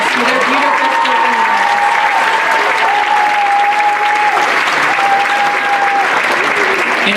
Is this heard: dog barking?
no